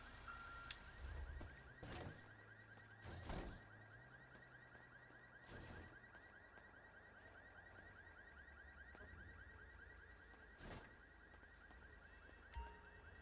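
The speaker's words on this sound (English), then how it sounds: "I just hit that car alarm's going off" A car alarm blares in the GTA video game, a steady repeating electronic wail running through the whole stretch, fairly faint in the mix, with occasional thumps and game noise underneath.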